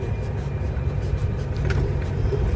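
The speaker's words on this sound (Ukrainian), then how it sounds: "зараз тут їду вулицями, доїжджаю вже до компанії" Volvo truck rolling through city streets, a low steady engine rumble with road noise from inside the cab, continuous and fairly loud, no talk.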